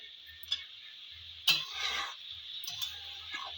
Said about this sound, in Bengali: এবার ভালো করে কষাবো রাইসটাকে